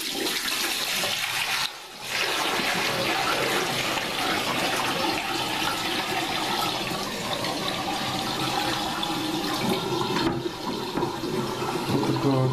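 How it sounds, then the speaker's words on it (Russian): A bucket of tap water from Verkhoturye is emptied into a sink with a loud, continuous rushing splash. The flow breaks briefly near the start and then keeps pouring steadily. "Сейчас сливаем в раковину."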